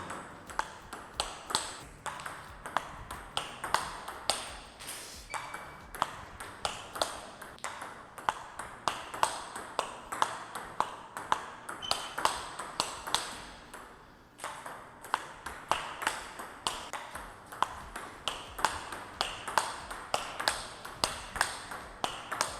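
A table tennis ball pings sharply off a Nittaku Fastarc G-1 rubbered paddle over and over in a quick, steady back-and-forth rally, crisp and fairly close.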